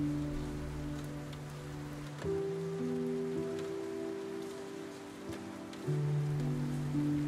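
Rain patters softly and steadily on a boathouse at night, a faint hiss beneath sustained low droning tones that shift pitch a few times.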